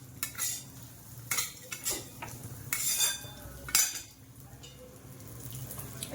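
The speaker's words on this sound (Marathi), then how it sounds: "काजू टाकूया चांगला असं तूप टाकून खरपूस भाजायचं" Cashews roasting in ghee in a pan for a Diwali faral rava sweet made with wheat flour, with intermittent metal spoon scrapes and clinks against the pan over a soft, steady frying sizzle.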